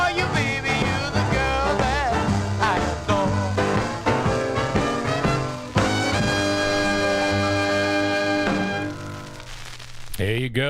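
A 1953 doo-wop record plays loud and continuous, with a full vocal line over steady band backing and a short break in the music near the end.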